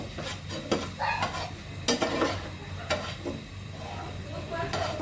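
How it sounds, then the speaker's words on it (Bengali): Onions and chilies sizzling in a pan with spatula scrapes and clinks against the pan, a soft crackle continuing throughout. "পেঁয়াজ মরিচ ভাজা হচ্ছে"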